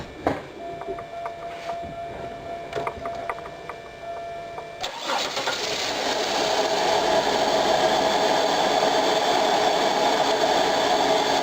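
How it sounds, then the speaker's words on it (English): A 1998 Buick Park Avenue starts after a few chimes and clicks inside the car: the starter catches and the engine settles into a steady, rising idle, heard from the cabin. "hop in the car, fire it up, and we'll see what happens"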